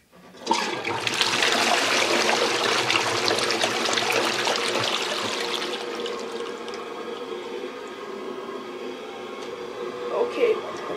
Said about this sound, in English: I should notify you guys of the buttons on the dual flush on this toilet have been fixed. So now it flushes better.